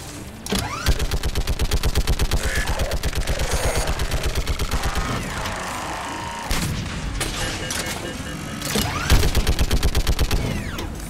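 A gun turret in Mass Effect 3 fires rapid, evenly spaced rounds in long sustained bursts, loud and close, pausing briefly before a second shorter burst, with no talking.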